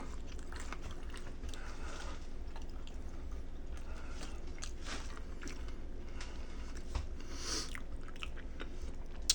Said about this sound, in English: The end of that crust has a nice pop and crunch to it.